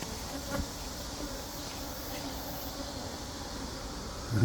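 A steady, low buzz of many hornets droning together around a native Korean honeybee hive at a moderate distance, with a brief louder rustle at the end.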